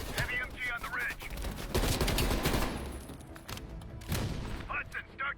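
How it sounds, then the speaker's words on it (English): Heavy machine gun fire from Call of Duty: Black Ops Cold War, rapid loud bursts with booming impacts, mixed with voices talking over the battle. "Watch it, heavy MG on the ridge."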